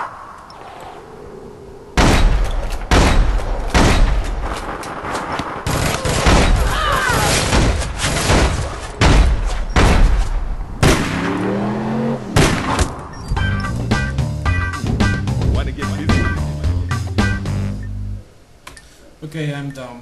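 Rapid bursts of gunfire from APB Reloaded, with dense repeated shots and loud cracks running over about eighteen seconds, broken by brief pauses and rattling mechanical sounds near the end.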